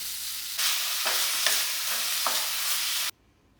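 Chopped tomatoes dropped into a hot pan for chicken curry set off a sudden loud sizzle, with a few stirring scrapes through the frying before it cuts off abruptly.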